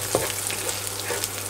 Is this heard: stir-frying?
yes